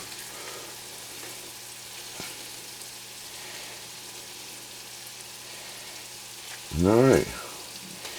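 Scallops frying in a pan: a soft, steady sizzle runs throughout beneath kitchen ambience, interrupted near the end by a man's brief spoken word.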